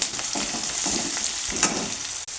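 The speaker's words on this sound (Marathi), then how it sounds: "याच्यात मी जो हा कुटलेला मसाला आहे तो मसाला तेलामध्ये टाकते" Crushed spice masala hitting hot oil over sautéed onion and peanuts, giving a steady close sizzle with light stirring scrapes, no voices.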